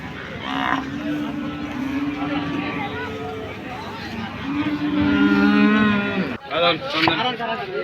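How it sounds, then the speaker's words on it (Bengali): Several long, drawn-out cattle moos sound close by at a cattle market, overlapping one another, with a brief gap and then shorter calls near the end. "খুবই সুন্দর একটি গরু"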